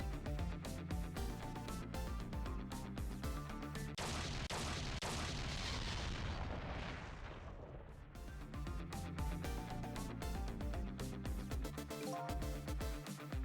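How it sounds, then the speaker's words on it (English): In the video game Ghost Trick: Phantom Detective, a dense rumbling explosion bursts out of the busy game soundtrack. The blast swells into a long roaring wash over a few seconds and then settles back into the music. "I think I heard an explosion somewhere."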